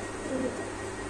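A pigeon gives a short, low coo, close and fairly soft, over a steady background hum in a pigeon loft.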